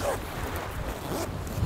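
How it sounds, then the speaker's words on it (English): Brief zipping of an internal zip pocket on a Quiksilver Triptik camera bag, a close, continuous rasping slide lasting under two seconds, heard alone. "Top pocket on here with an internal zip pocket."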